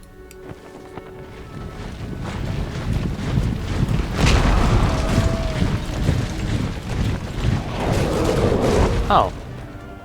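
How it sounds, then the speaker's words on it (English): Distant artillery and musket fire thud and rumble through a Napoleonic-era battle in Empire: Total War, a steady low roar with scattered booms and wind-like noise, a few louder bursts near the end. "So our artillery has begun to fire."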